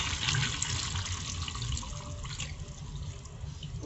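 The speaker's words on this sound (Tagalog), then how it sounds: "lagyan na natin yung ating gata. Ating kakang gata." Coconut milk is poured into a chicken curry, giving a steady soft liquid splashing and trickling with a few faint clinks, and no talk.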